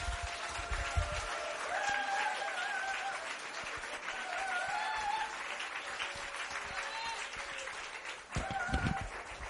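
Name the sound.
congregation applause at a church conference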